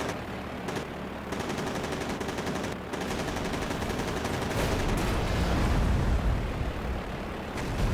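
Sustained, dense machine-gun fire and explosions from aircraft guns in the air-combat game Air Conflicts Secret Wars, set in the 1944 Slovak Uprising, roaring loudly and continuously for the whole stretch without any voices.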